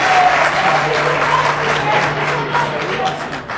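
An audience at a public address by Michel Martelly claps steadily, a dense and fairly loud wash of applause that holds evenly and tapers a little near the end.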